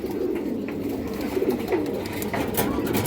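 A healthy breeding pair of Chuina pigeons coos in soft, low, throaty rolls, nearby and continuous for about three seconds, with faint rustling behind.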